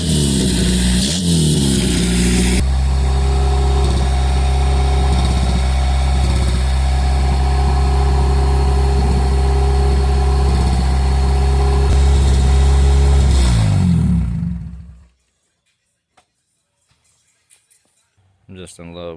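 A custom Honda Civic engine runs loud and close, idling with a deep rumble and a brief rev near the start, then cuts off abruptly, leaving near silence with faint sounds at the end.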